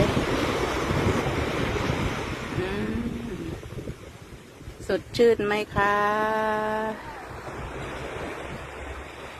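Sea waves wash onto a beach with wind buffeting the microphone, a steady roar at first. It thins out as a voice speaks over it near the end.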